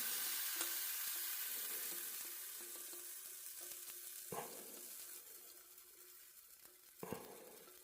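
A French crepe cooking in a pan, a soft, steady sizzle close by with a few sharp clinks of a utensil against the pan, quiet and without talk.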